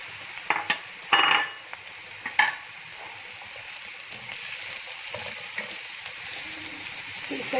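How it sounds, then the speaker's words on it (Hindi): Onions fry with cumin seeds, garlic and spices in a pan for a bhindi salan, giving a steady close sizzle with a few sharper clinks and scrapes of stirring near the start. "इसको लाइट पिंकिश होने तक हम प्याज को फ्राई करेंगे जीरा और लहसुन के साथ।"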